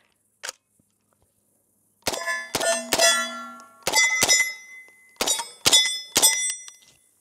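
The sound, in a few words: bullets from PTR 9ct ringing a steel target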